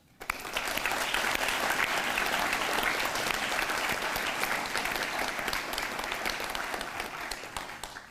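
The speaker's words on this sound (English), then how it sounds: "Please join me once again in applauding all the new National Honor Society members." Sustained audience applause for new National Honor Society members at a high school induction ceremony, a full, steady roar of many hands clapping for about eight seconds before tapering slightly at the end.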